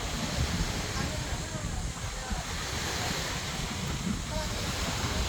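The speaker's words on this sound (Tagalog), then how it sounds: "Sea breeze, yeah." Steady surf and wind rush fill the scene, a constant low roar of waves with breezy microphone buffeting throughout.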